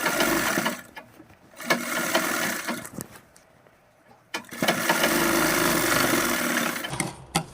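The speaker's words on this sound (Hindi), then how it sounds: "जिस तरह से हमने मियानी पर सिलाई लगाई हुई थी उसी तरीके से हम यहाँ पर भी सिलाई को लगाएंगे" A sewing machine stitches men's underwear fabric, running in loud continuous bursts with short pauses between seams, the steady mechanical whir filling the space up close.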